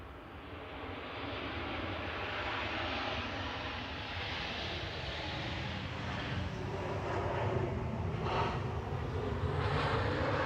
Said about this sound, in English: departing was Ryanair EIGE operating flight 4027 to Alicante, 737 MAX 8200